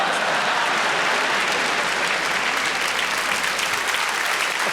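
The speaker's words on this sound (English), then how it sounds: "Applause." Theatre audience at a live stand-up comedy show applauding, a thick, even roar of many hands clapping that stays loud and unbroken throughout.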